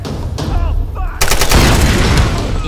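A grenade launcher fires in the Tomb Raider video game, giving a sharp loud blast followed by a rattling burst of gunfire and a booming tail that carries on to the end.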